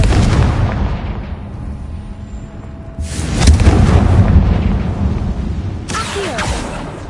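A Confringo spell detonates in Hogwarts Legacy, giving loud booming blasts inside a tomb, with a rumbling burst near the middle and another sharp bang toward the end over a continuous low roar.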